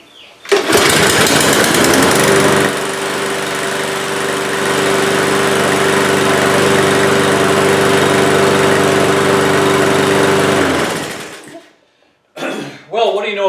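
Small walk-behind lawn mower engine catching on starting fluid after a stubborn no-start, firing up loudly and running steadily at close range for about ten seconds before cutting off, followed by brief clatter.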